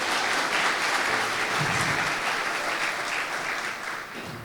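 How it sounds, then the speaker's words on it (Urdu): A church congregation breaks into loud, sustained applause that fills the room, holding steady before tapering off near the end, with no talk over it. "زوردار تالیاں خدا کے لیے"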